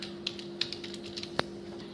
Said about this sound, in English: type the text,